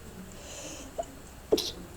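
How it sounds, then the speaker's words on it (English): A single short sneeze bursts out after a small catch of breath, brief and fairly close against a quiet room background. "I just sneezed"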